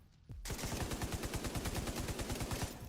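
Rapid, evenly spaced gunshots in the video game Division 2, a steady fast burst of many close shots that starts abruptly after a brief quiet moment.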